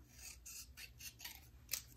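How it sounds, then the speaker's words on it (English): Scissors slicing diagonally through paper scraps for a birthday card: a quick series of crisp snipping cuts, about six in steady rhythm, close and fairly quiet, with no voices. "you can take your scissors and you're going to cut tip to tip right on an angle"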